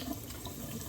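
Tap water runs steadily over an airbrush part being rinsed at a sink, a continuous close splashing flow with no voices.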